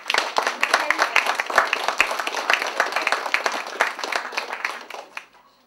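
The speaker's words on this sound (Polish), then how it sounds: "Poproszę o wielkie brawa." An audience claps at a kindergarten nativity play, a dense and steady round of applause from a crowd that carries on for several seconds before dying away.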